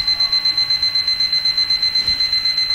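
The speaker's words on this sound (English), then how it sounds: "that's the alarm clock." Alarm clock ringing in a video game, a rapid steady electronic beeping pulse repeating evenly, loud and alone.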